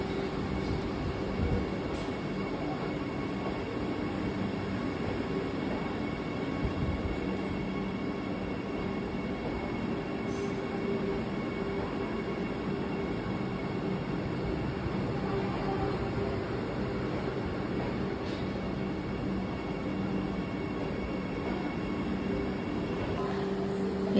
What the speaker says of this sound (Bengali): এই তো ট্রেনে উঠছি।